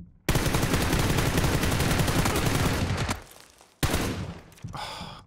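Sustained automatic gunfire in PUBG rattles loud and dense for about three seconds, drops out, then returns in shorter bursts with a sharp crack near the end.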